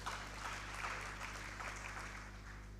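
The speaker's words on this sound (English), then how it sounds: "So give her a round of applause" An audience at a youth empowerment summit in Nigeria applauds, a fairly soft, even patter of clapping over a steady low electrical hum throughout.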